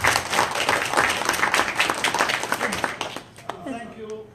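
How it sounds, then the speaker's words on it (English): A crowd breaks into loud applause, sustained clapping that fades near the end as a voice starts speaking. "Should we give them a round of applause?"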